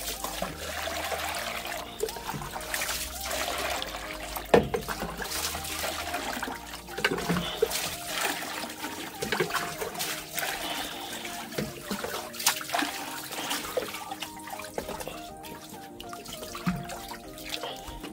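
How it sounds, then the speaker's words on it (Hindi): Water pours and trickles across a plate being washed clean, a continuous close splashing flow with intermittent clinks and drips throughout, no speech. "अब इसके अंदर हम पानी डाल देंगे"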